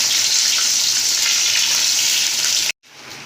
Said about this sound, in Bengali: মাছের মাথাগুলো এই যে একটু দিয়েছি ভেজে নেবো